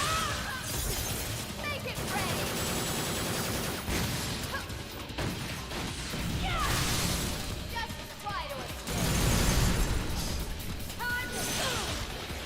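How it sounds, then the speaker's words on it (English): Loud, dense game-action audio from Devil May Cry 4 on PS5: repeated bursts, crashes and shattering impacts with whooshing effects, continuous for the whole stretch with no quiet gaps. "My explosions should have worked faster than that."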